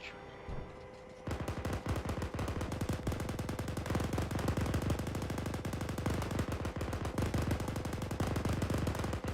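Machine gun fire in the Arma military game during an M1A2 Abrams crew engagement on a bunker: after a brief quieter start, a loud continuous rapid burst of automatic fire with echoing reports runs to the end.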